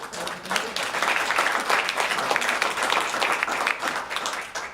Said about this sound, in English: So if you would applaud these people